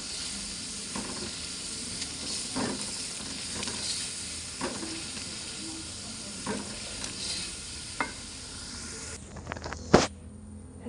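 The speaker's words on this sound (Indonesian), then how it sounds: "Ini kita gunakan apinya api kecil aja guys ya, biar tidak tersedak guys, dan bumbunya masak yang bagus sempurna" Spice paste fries on a low flame with a continuous gentle sizzle and hiss. Occasional soft stirring scrapes come through it, with a louder clatter near the end, and no one speaks.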